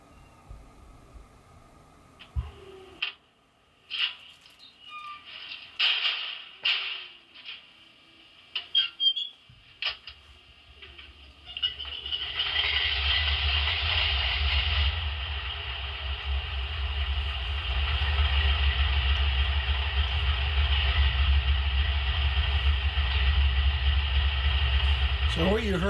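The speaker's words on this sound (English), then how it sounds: "what you heard there was actually the locomotive engineer getting into the cab and everything there. So hear the door open and close." A Broadway Limited RSD-15 model locomotive with Paragon3 sound runs its startup sequence: scattered clicks, knocks and a cab door opening and closing, then a diesel engine rumbles to life and settles into a loud, steady idle.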